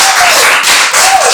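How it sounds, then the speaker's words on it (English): Audience applause at a couples game show, a dense, steady wash of clapping filling the whole short stretch at close, loud level, with no talk over it. "A round of applause for him."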